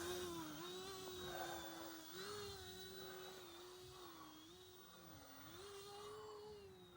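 The brushless motor of a Flybear FX9706 four-channel RC airplane whines steadily at a moderate distance, its pitch wavering up and down as the throttle changes, with no talk over it.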